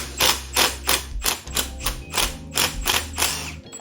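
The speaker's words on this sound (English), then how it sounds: "When you're hitting it with the impact, don't be afraid to hammer at it." An impact wrench hammers at Loctite-secured handlebar bolts on a Yamaha MT-07 motorcycle in a steady series of sharp, rapid bursts, about eight close, loud rattling blows in a row.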